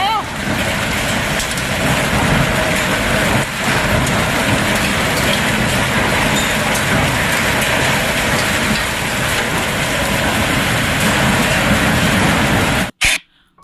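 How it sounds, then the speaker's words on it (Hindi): Hailstones fall hard during a hailstorm, a dense continuous clatter and roar striking surfaces close by. The loud, steady downpour carries on for over twelve seconds and then stops abruptly. "तो देखा आपने कितने ज़बरदस्त ओले आए हैं।"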